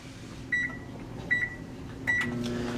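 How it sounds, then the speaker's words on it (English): A microwave oven with aluminum tin foil inside runs with a steady low hum, broken by three short electronic beeps and a soft click near the start. "After placing the tin foil in the microwave, we set the microwave for 20 seconds and start it up."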